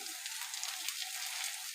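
A mooli paratha fries in ghee on a tawa over low heat, giving a soft, even, close sizzle that holds steady for a couple of seconds with no voices.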